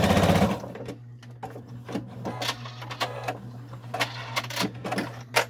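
A sewing machine stitches fabric for a face mask in short rapid bursts, running forward and reversing to backstitch, with quiet pauses between runs.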